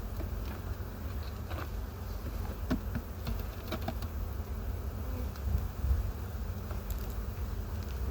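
Honey bees hum steadily around queen bees held in a queen bank at a Canadian apiary, a low continuous buzz with scattered small clicks and taps close by.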